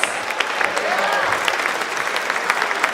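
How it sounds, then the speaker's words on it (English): A basketball crowd in a school gym applauds the game officials, a loud, steady burst of clapping with occasional sharper claps throughout. "Please join me in thanking our officials with a round of applause."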